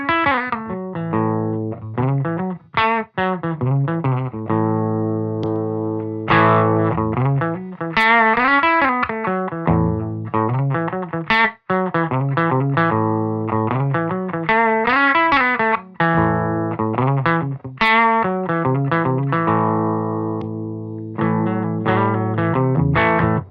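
Distorted electric guitar with a 3 kHz EQ boost and then a slight 3 kHz cut, played through effects as loud, steady chord strums and riffs with sustained ringing notes and no talking.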